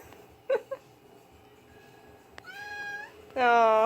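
A pet cat meows in a kitchen near an open fridge after being chilled inside it, giving a few short calls and then a longer, louder drawn-out meow close by, with a person's quiet voice in between.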